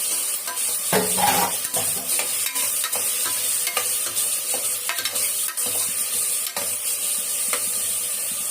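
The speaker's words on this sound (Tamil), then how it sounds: "கொஞ்சம் நல்லா வதங்கட்டும்." Small tomatoes sauté in a pan for a large biryani, a steady close sizzle with occasional scraping stirs and light clinks of a spoon against the pan, no voices.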